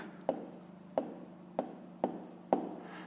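Pen strokes while a fifth-grade math exercise is written down, five distinct scratchy taps spaced about half a second apart, close and fairly quiet, with no speech.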